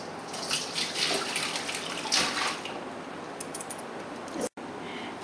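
Liquid drains from salted cucumbers being prepared for bread and butter pickles, a steady, fairly quiet watery rush and trickle that briefly cuts out near the end.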